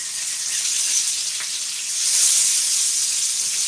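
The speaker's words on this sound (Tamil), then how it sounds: "மீன் குழம்பும் மீன் ஃப்ரையும் நடந்துகிட்ருக்கு" Fish frying in a pan at home, a steady loud sizzling hiss of hot oil that swells slightly midway, close with no talking.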